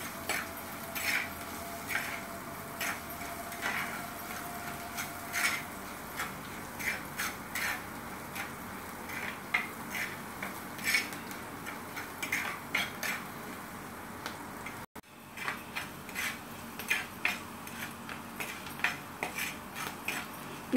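Green chillies sauté in a pan for pickle, with a faint background sizzle under repeated light clinks and scrapes of a spoon against the pan, irregular and fairly quiet, continuing for a long stretch.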